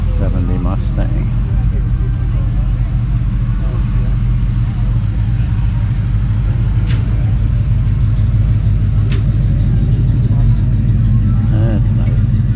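A 1970 Ford Mustang engine runs at a car show, a steady low rumble with possible revving, loud and continuous, with people talking over it.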